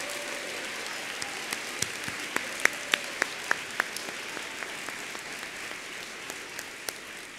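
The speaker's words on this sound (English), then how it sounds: "let's give one more round of applause to our seniors of the elementary school" An audience at an elementary school awards day applauds, with steady dense clapping and some louder individual claps standing out near the front, continuing evenly throughout.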